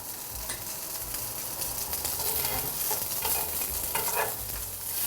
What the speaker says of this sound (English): what he's doing is he's just frying in a pan